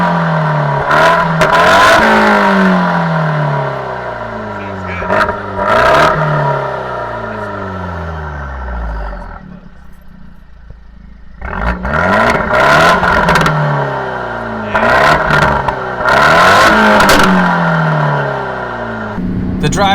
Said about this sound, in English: The 4-cylinder in this is turbocharged, so it actually has a pretty cool sound.